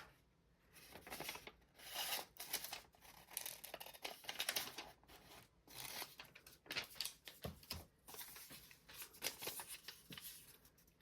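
Paper scraps being cut with scissors for a junk journal, a steady run of close, dry snips and rustling handling noises that come in uneven bursts, with no talking.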